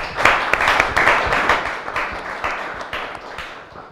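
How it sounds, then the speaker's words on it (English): A crowd at a startup talk event breaks into a round of applause, dense overlapping clapping fading gradually over several seconds, with no speech. "Let's give it a round of applause to all of them."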